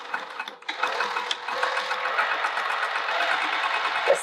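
A sewing machine stitches a bucket tote at a tight stitch length, starting with a few clicks and then running in a steady mechanical hum that holds to the end.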